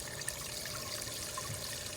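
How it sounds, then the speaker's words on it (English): A small fountain in an outdoor mini pond splashes and trickles steadily, a soft continuous burble of falling water. "See my fountain here filtering really well."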